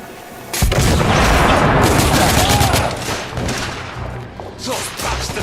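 Grenade explosion and gunfire in the video game The Order: 1886, a sudden loud blast followed by a dense burst of rapid shots and crackling that gradually thins into scattered shots.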